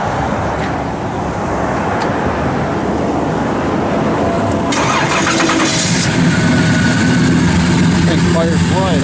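A 1966 Chevrolet Chevelle SS engine cranks and catches about halfway through, then settles into a loud, steady idle close by, with a brief voice over the running engine.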